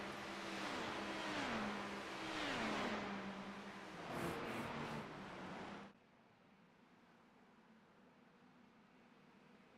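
Race car engines in a racing video game at a Speedway 500 oval rise and fall in repeated revving sweeps before the green flag, then cut off abruptly to a faint hum.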